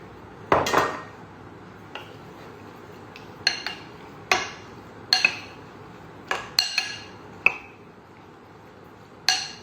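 Half an egg is mixed into beef in a bowl, a utensil striking the bowl in about a dozen sharp, irregular clinks over a quiet background, with no voices.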